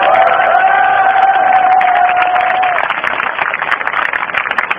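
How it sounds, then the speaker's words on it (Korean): A large crowd at a candlelight rally in Gwanghwamun, Seoul, claps and cheers loudly and steadily. A sustained whistle-like tone runs through the first few seconds. "부산 지역 학생, 교수, 민주동문께 힘찬 격려의 박수 보내주시기 바랍니다"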